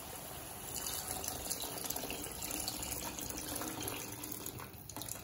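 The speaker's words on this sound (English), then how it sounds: "And for the curry part, we have to add water." About 400 ml of water pours steadily into a pan of Chettinad egg curry with fried hard-boiled eggs, a soft continuous splash and trickle close by that tapers off near the end, with no talk.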